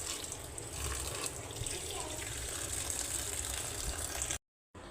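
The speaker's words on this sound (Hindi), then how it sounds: "यहाँ डालूँ थोड़ा सा पानी ताकि ठंडी हो जाए और ये आसानी से निचड़ जाए।" A little water is poured into a cooking vessel to cool it, giving a steady close splashing rush that stops abruptly near the end.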